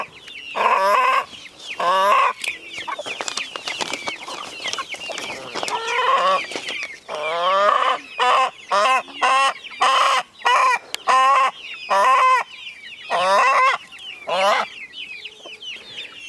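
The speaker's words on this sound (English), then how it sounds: "here you can see that some chickens have come and scraped the soil" Hens cluck and squawk repeatedly while scratching at farm soil, bursts of loud close clucking broken by short pauses over sixteen seconds, with no talk.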